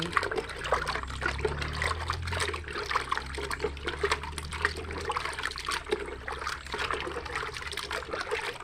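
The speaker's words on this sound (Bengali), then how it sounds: "এটা ভালো করে একটু কচলায় কচলায় ধুয়ে নেবো" Chopped pieces of elephant apple (chalta) are squeezed and rubbed by hand in water, giving a continuous close sloshing and trickling with small splashes and no talking.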